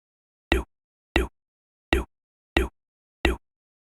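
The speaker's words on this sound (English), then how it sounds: "it should sound a little bit like a kick drum" A single sample used as a kick drum plays five times at irregular intervals, each a short, punchy thump with a bassy body, separated by silence.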